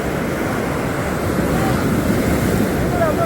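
Ocean surf at Valap beach rolls in as a steady, loud broadband wash, with wind buffeting the microphone throughout and no clear talking.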